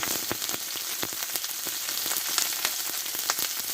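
Two large sliced onions and garlic fry in hot oil with a dense, crackling sizzle and sharp popping spatters, close and steady from start to finish.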